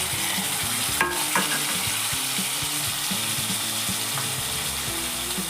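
Tomatoes frying with browned onions in a pan for urad dal aamti crackle under a steady sizzle, while a spoon scrapes and taps against the pan in a quick, regular stirring rhythm, close and with no speech.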